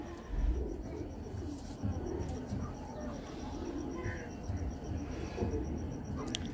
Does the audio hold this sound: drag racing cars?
no